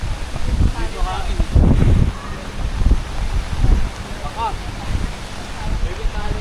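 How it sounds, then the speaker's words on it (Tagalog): Strong storm wind gusts roar in loud, uneven bursts across a campsite during heavy rain in Casapsapan, Casiguran, buffeting the microphone while people talk close by. "Grabe, ang lakas ng hangin."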